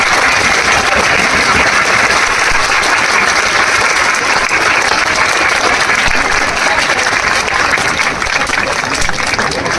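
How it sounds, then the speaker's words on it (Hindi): Loud, sustained applause from a large crowd at a protest at Azad Maidan, dense clapping filling the whole stretch with no pauses. "जरा जोर से तालियां बजाओ, और जोर से।"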